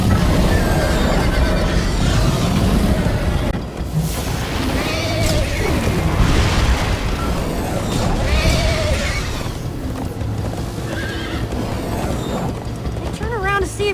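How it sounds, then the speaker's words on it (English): A horse whinnies and gallops in the Minecraft: Story Mode video game, with clattering mechanical game effects, a loud neigh near the end and a game character talking over it. "First time on a horse here."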